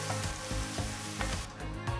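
Carrots sizzle and crackle in a hot pan over medium heat, a continuous loud frying hiss with faint periodic stirring knocks.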